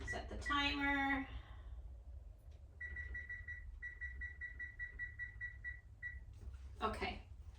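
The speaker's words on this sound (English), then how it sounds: "Set the timer." A Frigidaire oven timer gives a series of short, evenly spaced electronic beeps as it is set, ringing clearly in a kitchen after a brief stretch of talk, with more talk at the end.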